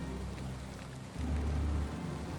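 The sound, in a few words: rain in the video game Valheim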